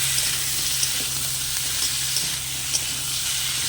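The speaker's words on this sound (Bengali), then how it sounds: "তো এবার দিয়ে দেবো কেটে রাখা সব সবজিগুলো।" Chopped vegetables sizzle and fry in a pan of hot spices while being cooked for a Bengali papaya dish, a steady close crackle with faint stirring scrapes and no voices.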